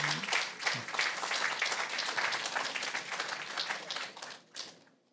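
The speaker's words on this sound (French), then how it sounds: "En attendant, je vous propose de les applaudir" An audience at an industry conference applauds the panel speakers with sustained, moderately loud clapping that holds steady for about four seconds and then tapers off quickly.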